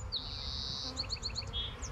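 Honey bees from a package buzz inside their shipping box while being installed into a hive, a steady close hum with a few brief higher chirping tones over it.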